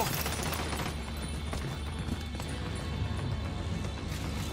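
Dense gunfire from a firefight in the Portuguese-language playthrough of Tom Clancy's The Division 2, a steady clatter of rapid shots mixed with game effects and low rumble, loud and continuous throughout.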